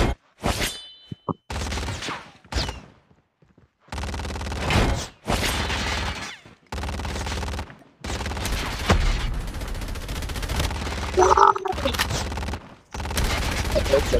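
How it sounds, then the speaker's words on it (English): Sentry guns in a video game refinery level fire in repeated bursts of rapid automatic gunfire, loud and close, separated by short silent gaps, with a brief mechanical whir near the middle. "This is guarded by sentry guns."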